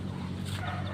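A single chicken kept at a rural home clucks softly, a short faint burst over low background noise.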